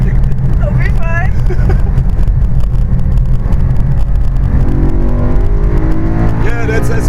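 A race car engine drones steadily from inside the cabin of a rental race car on the Nürburgring, its pitch rising and falling as it accelerates, with a voice talking over it.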